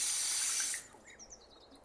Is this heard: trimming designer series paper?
no